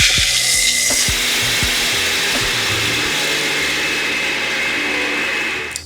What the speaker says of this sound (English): we're gonna start by blending our pumpkin seeds